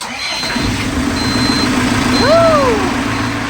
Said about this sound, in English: then went to fire up the engine